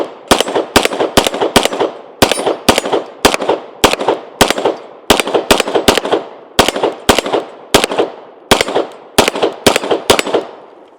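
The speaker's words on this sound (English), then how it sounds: "So let's go ahead and take our few shots with it." A Kimber 2K11 Target pistol fired at a range, many sharp loud shots in quick bursts of two to four with brief pauses between, no talking.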